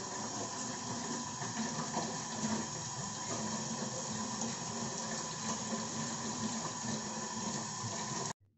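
Running water pours steadily over the bare roots of an aglaonema plant lifted from its pot, a continuous close splashing rinse that stops abruptly at the end.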